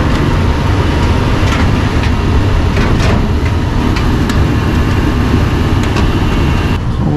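Gas furnace running just after ignition, a loud steady broadband rumble and blower roar that stays constant and close, with occasional faint clicks and no talk.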